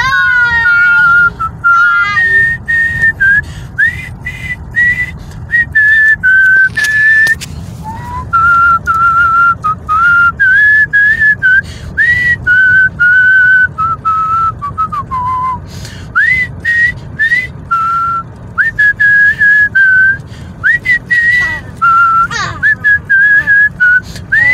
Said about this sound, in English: now we gotta whistle another Christmas song